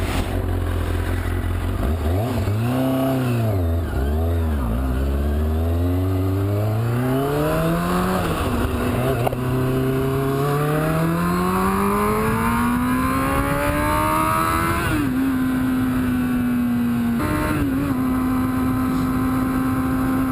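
A motorcycle pulls away on a road through twisty hills and accelerates hard. The engine revs up and down through several gear changes, loud and close, then steadies into a cruising drone. No voices are heard.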